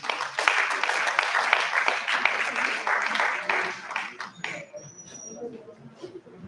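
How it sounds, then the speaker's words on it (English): Round of applause from the audience at a research review meeting for the presenters, sustained clapping for about four seconds that then thins out into scattered claps and faint room noise. "Please, let's give them another round of applause."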